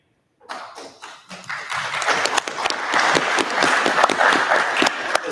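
Audience applause after a candidate's answer at a student senate election debate, starting abruptly from silence and building into steady, dense clapping that continues for several seconds.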